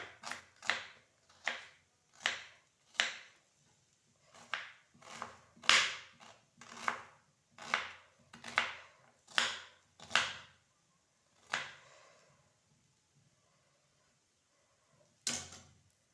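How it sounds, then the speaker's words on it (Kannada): Onion being chopped with a knife on a cutting board in a home kitchen, a steady run of sharp, close knocks roughly every half second, then a pause and one last chop. "ಒಂದು ಈರುಳ್ಳಿ ತೊಗೊಂಡು ಕೊಯ್ತಾ ಇದ್ದೀನಿ ಈ ಥರ"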